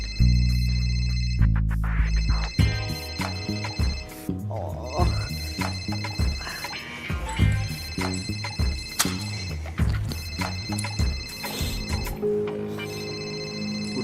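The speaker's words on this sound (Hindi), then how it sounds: "ये शायद फोन की आखिरी कॉल है सुखबीर।" A telephone ringtone sounds in a Hindi comedy short film, its bright tonal melody repeating steadily for the whole stretch, with voices speaking over it.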